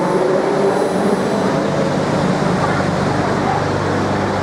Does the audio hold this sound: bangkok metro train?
yes